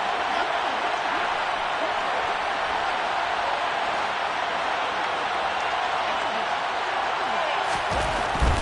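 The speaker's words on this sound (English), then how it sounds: "Listen to this crowd now." A football stadium crowd at a Jets vs Raiders game roars in a sustained, loud, even wash of noise ahead of a two-point conversion, with a sudden surge right at the end.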